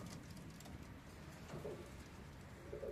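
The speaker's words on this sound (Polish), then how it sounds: "Paradne gołębie" Parade pigeons cooing softly in a loft, a couple of low, faint coos over quiet background noise, with no voices.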